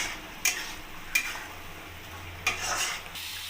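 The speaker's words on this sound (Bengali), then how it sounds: "আগে আমি মশলাটাকে এখন ভালোভাবে আলু, পেঁয়াজ আর ক্যাপসিকামের সাথে একবারে কষিয়ে নেব।" Spice paste being stir-fried in a pan with potato, onion and capsicum: three quick scraping strokes of a spatula over a soft, steady sizzle, close and quiet, with no voices.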